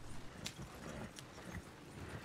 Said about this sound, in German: Und reiten mit den Pferdchen hier unter diese wunderschöne Unterführung durch.